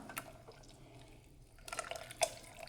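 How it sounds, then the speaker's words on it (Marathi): Boiled hot water splashes and trickles into a pan, with a few sharper drips and a brief louder pour toward the end; quiet, close by, no talking. "इथं मी दोन ते अडीच ग्लास पाणी गरम उकळून घेतलेलं आहे चांगलं ते घालते"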